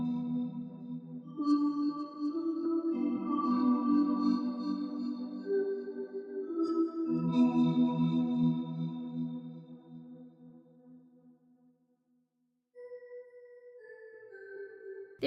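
A small bell plays a melody within a hip-hop beat, with sustained ringing tones layered over warm pads, fading out before a brief higher bell phrase closes.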